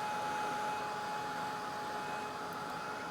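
A dryer blows steadily on wet paint on a painting of two boats and a tree line, giving a constant, loud, close whirring roar with no change in pitch and no voices.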